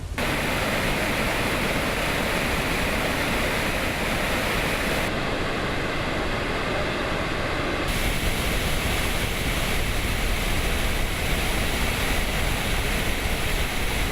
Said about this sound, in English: the floodgates are fully opened at the dam and they're releasing as much water as they can